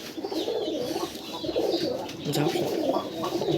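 Pigeons cooing at a pigeon farm, a steady chorus of low, rolling coos from several birds close by, with a few faint chirps over the top.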